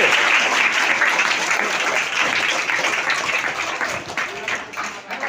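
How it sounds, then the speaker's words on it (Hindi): Loud, dense audience applause from a school event where students introduce themselves, a sustained burst of many hands clapping that tapers slightly toward the end, with some voices mixed in. "चलो जोरदार ताली से स्वागत कीजिए"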